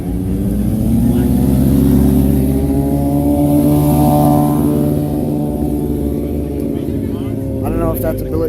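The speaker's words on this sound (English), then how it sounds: "Now we got a biker crew." Motorcycles from a biker crew at a large car meet rumble loudly and rev in a sustained engine roar close by, with voices talking over it toward the end.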